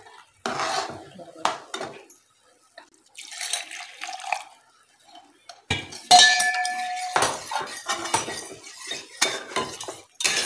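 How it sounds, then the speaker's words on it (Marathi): Semolina sheera being stirred with milk in a metal pan, giving bursts of scraping and clinking spoon-on-pan sounds with short pauses between strokes, close and fairly loud, with no talking. "हे आपण छान असं मिक्स करून घेऊया।"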